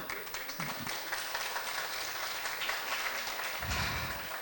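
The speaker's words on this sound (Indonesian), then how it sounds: "Tepuk tangan dong." Audience applause at a university public lecture on finance and investment, a fairly faint, continuous spatter of clapping across the room, heard alone without talk.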